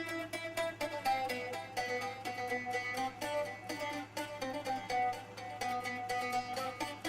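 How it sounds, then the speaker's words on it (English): A chopped bouzouki phrase plays as bright plucked tremolo notes over a steady low drone, looping continuously at moderate loudness with no voices. "So I chopped like a bouzouki phrase I have here."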